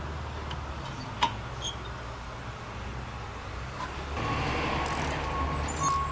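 Distant urban traffic from buses, trains and garbage trucks near railroad tracks makes a steady low rumble throughout, with a few faint ticks and a slightly louder wash of noise toward the end.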